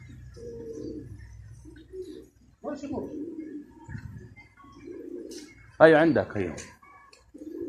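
Pigeons coo in soft, repeated low phrases from a flock of about 120 birds, with a flurry of louder calls or wing noise near the end, while someone talks between them.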